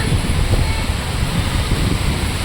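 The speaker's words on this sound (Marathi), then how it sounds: "बाहेर बघा काय मस्त भरपूर पाऊस चालू आहे" Heavy rain driven by wind outside makes a dense, steady roar that never lets up, fairly loud and with no one talking.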